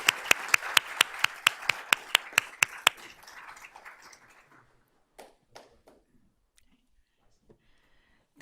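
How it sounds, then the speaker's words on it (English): A school board of trustees meeting marking student and staff honors, where a small group claps in a steady, evenly spaced rhythm of single hand claps for about three seconds, then the clapping trails off into a few scattered claps and quiet room sound. "Let's give them a round of applause."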